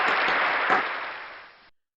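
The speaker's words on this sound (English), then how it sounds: "let's give Alice a round of applause" A school audience gives a short round of applause, a brief burst of clapping that swells, then fades and stops after under two seconds.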